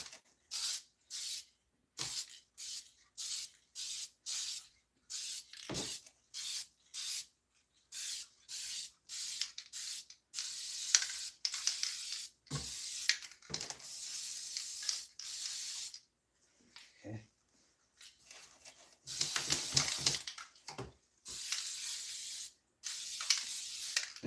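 Gasket sealant for a multi-layer steel head gasket on a GM 4.3L V6 is sprayed from an aerosol can in many short, sharp hissing bursts, close and alone, with a few longer sprays and quiet gaps between.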